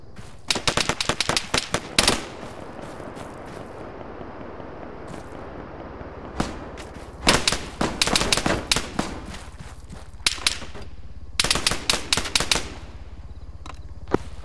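Rapid bursts of automatic fire from a captured enemy weapon in the military game Arma 3, sharp clustered volleys near and loud separated by quieter gaps with a low engine-like rumble beneath.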